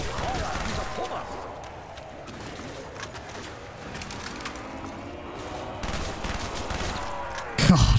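Automatic gunfire rattles out in rapid bursts during a round of Black Ops 1 Zombies, with the game's ambient noise underneath and a sharp, louder burst at the very end.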